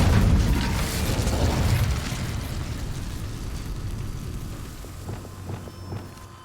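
A fire spell is cast in a Hogwarts wizarding video game: a loud whooshing, crackling burst erupts at once and then rumbles on more softly, with a few faint clicks near the end.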